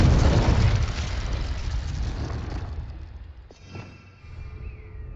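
A Confringo fire spell bursts in Hogwarts Legacy with a loud, roaring blast that fades into a long, rumbling decay, followed by a faint whooshing tail.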